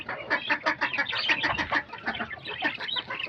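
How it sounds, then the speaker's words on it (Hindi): A duck and chickens call together at close range, a busy overlapping run of loud clucks and squawks with no pauses, the duck noisy among the hens. "पहले हम खोल देते हैं डक को, बहुत शोर करती है"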